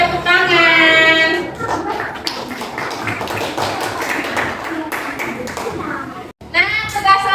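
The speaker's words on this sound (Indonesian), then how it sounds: "Beri tepuk tangan." A room full of children claps together in rapid, sustained applause, with chatter and voices mixed in throughout.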